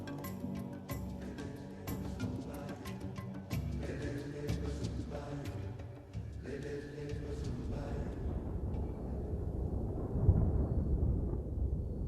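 An October thunderstorm approaches over the Masai Mara in the Serengeti, with deep rolling thunder rumbling under a steady wash of wind and rain noise, building toward the end.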